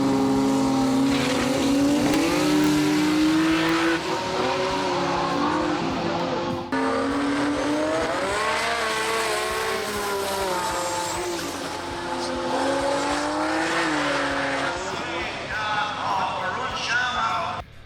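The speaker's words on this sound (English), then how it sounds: "Sakina in the RX2 and Varun Sharma in the Toyota Supra." Mazda RX2 and Toyota Supra drag race cars at a Sydney drag racing meet: a loud, continuous engine roar with rising and falling revs for the whole stretch, with a voice talking over it.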